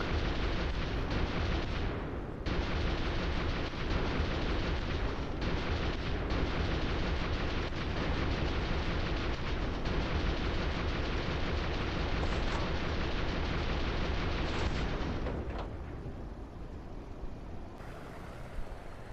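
Aircraft guns firing during an intercept of bombers in a flight simulator game, a dense, continuous roar of gunfire and engine noise for about fifteen seconds before easing off.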